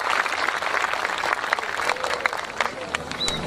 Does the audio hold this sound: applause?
yes